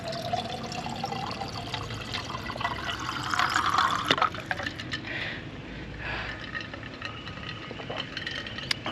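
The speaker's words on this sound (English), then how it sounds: "nothing beats just filling it up straight out of the water bottle back of the car" Water pours from a water container in the back of a car in a steady gurgling stream into a bottle, the pitch shifting as it fills, with a brief rising burble partway through.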